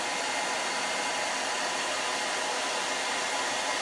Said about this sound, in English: brush underneath, blow dryer on top.